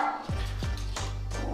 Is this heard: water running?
no